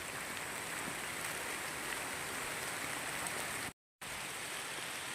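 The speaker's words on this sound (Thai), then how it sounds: "รู้สึกว่าฝนจะลงเปียกหมดแล้วแหละ" Steady outdoor rain falling on a rubber plantation during a gem-hunting walk, a dense continuous hiss without talk, briefly cut out near the end.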